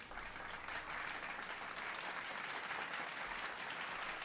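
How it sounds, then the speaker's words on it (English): Applause sound effect played during a live game stream, a steady wash of crowd clapping that runs unbroken for several seconds at moderate volume. "Okay, well, applause."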